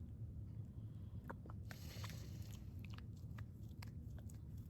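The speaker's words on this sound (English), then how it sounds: "And she's a Shih Tzu, so she licks constantly, even when there's nothing there." A Shih Tzu dog licking and chewing close by indoors, faint wet smacks and soft bites repeating irregularly over a low steady background hum, with no voices.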